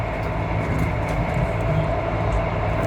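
Steady rumble and hum inside a moving train carriage, with a constant tonal drone and faint rattling, no voices.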